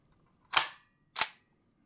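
Umarex HK MP5K CO2 BB air gun, two sharp clunky trigger clicks about half a second apart, close and dry with quiet between them.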